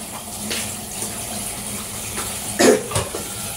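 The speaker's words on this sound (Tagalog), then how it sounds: "gamit natin ay gripo" A tap runs steadily into a sink during washing, a soft continuous hiss with a couple of brief splashes and clatters near the end.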